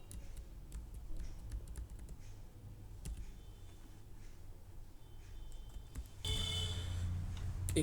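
Soft keyboard typing at a computer while entering an Excel VLOOKUP formula, faint scattered clicks over a low room hum, with a louder burst of clacking near the end.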